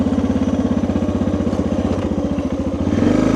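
A Suzuki DR650 dual-sport motorcycle on Motoz Tractionator tires pulls onto a highway, its single-cylinder engine chugging in a steady loud rhythm that rises as the throttle opens near the end.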